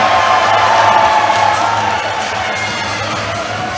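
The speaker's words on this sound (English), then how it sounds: "the Elite faithful cheering them out as well, trying to drown out Roscoe Pibworth supporters" A loud crowd at an amateur boxing show in Dunstable cheers and shouts continuously as the fighters walk out, supporters of both corners trying to out-yell each other in a dense, sustained roar.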